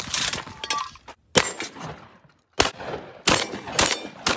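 Shotgun blasts from a large box of shells, several sharp, loud reports in quick succession, some close together and others spaced by short pauses, each cracking out and then decaying.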